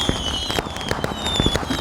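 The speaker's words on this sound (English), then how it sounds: "And these two girls are enjoying as well the fireworks." Fireworks at Canada Day celebrations crackle and pop in rapid, irregular bursts, fairly close, with a faint whistle running through.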